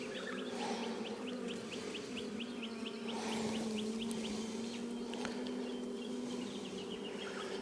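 A steady swarm-like hum of honey bees fills a hive inspection as brood frames are handled, close and continuous, with faint repeated ticking chirps over the drone and no speech.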